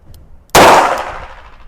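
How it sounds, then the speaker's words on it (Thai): A blank gun round is fired at close range, pressed right up against the target: one sharp, very loud bang with a quick decaying ring, no talk. "นี่คือกระสุนแบงกันนัดที่หนึ่งนะครับ"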